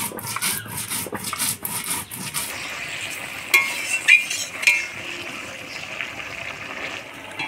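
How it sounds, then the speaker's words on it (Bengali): Cumin and coriander seeds ground together on a stone, a steady rough rubbing and rasping scrape with a few sharper knocks near the middle, close and moderately loud. "এবার জিরা ধইনা একসাথে বাটি নেব"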